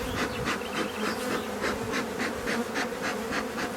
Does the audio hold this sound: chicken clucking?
no